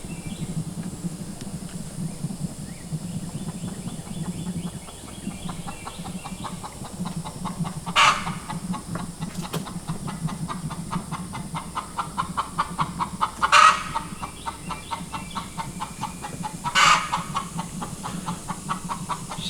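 Hens cluck steadily in a farmyard, with a hen's louder, drawn-out squawks breaking through several times after laying an egg, moderately near over a low background hum.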